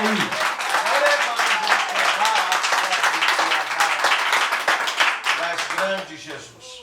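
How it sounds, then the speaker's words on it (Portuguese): A congregation at an outdoor preaching point applauds loudly and continuously, many hands clapping together with voices mixed in, tapering off at the end. "Você pode aplaudir Jesus? Aplauda Jesus de Nazaré aí"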